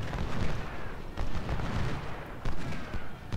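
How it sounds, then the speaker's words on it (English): Carbine gunfire in the Civil War strategy game Ultimate General: Civil War, a dense, loud crackle of overlapping shots and volleys rolling continuously with sharper reports standing out. "We're going to use the carbines to aggressively put fire down"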